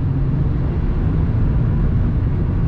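Loud, steady low engine roar from a race car in a video game, a continuous droning rumble with no breaks and no talk over it.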